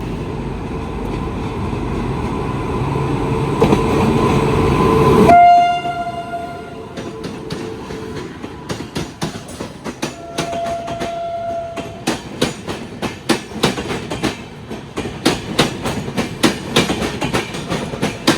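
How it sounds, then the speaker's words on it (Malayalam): The Chennai–Nizamuddin Garib Rath Express roars past close by, sounding its horn, then its wheels clatter over the rail joints in a rapid rhythmic clack as the carriages go by. "ചെന്നൈയിൽ നിസാമുദ്ദീൻ പോകുന്ന ഗരീബ് രഥ് എക്സ്പ്രസ് ആട്ടോ ഇത്."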